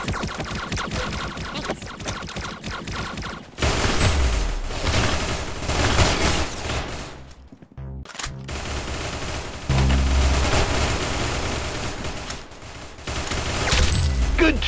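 Rapid automatic gunfire from the Roblox game Arsenal rattles in dense loud bursts, pausing briefly in the middle before the shooting resumes just as fiercely.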